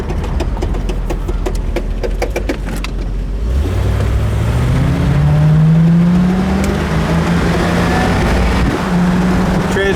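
A 1970 Ford Torino GT convertible with a 351 V8 rumbles at a loud, close idle, then revs hard and accelerates through a rising engine pitch as the transmission shifts.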